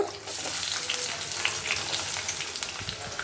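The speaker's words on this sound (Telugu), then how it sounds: "కొంచెంసేపు వేయించుకుందాము, వేగుతూ ఉంటాయి." Finely chopped onions fry in oil for a spicy chicken fry gravy, giving a close, continuous crackling sizzle with scattered pops and light stirring scrapes throughout.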